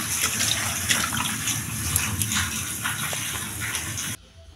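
Steady rush of running tap water splashing as tulsi leaves are rinsed in a home kitchen, fairly close and continuous, then cutting off abruptly near the end.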